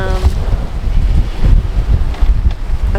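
Strong wind of about 21 to 22 knots roars across the microphone while a sailboat moves through the sea at night, a loud, gusting rumble with no talk.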